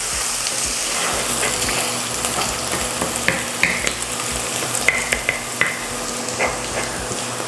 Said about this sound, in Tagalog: Ituloy lang natin yung pag-isa hanggang sa makita natin na nag-uumpisa na itong mag-brown